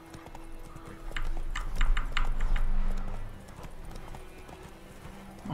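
Horse hooves galloping in The Witcher 3, a rapid rhythmic clip-clop of a tiring horse that swells loud in the middle, then eases back under a low steady game background.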